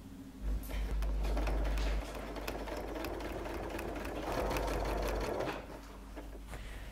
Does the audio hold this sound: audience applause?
no